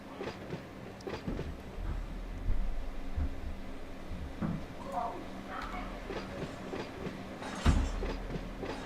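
A train in the Run 8 simulator backs slowly up to couple onto cars, with low rumbling, rail clatter and a sharp clank near the end, fairly quiet with faint background noise.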